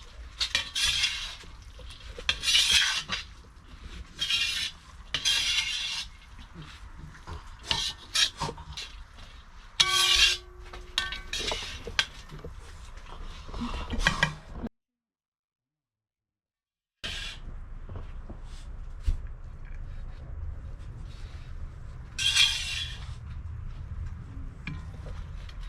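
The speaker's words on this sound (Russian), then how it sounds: "Перемешиваем плов." Uzbek plov is stirred in a pot, a spoon scraping and clinking in repeated bursts at close range, with a short silent gap midway before the rhythmic scraping resumes.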